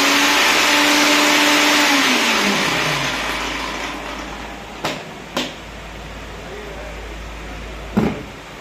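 Butterfly Rapid 750W mixer grinder running with an empty jar: a loud, steady high-pitched motor whine that winds down and fades, followed by a few sharp clicks and knocks.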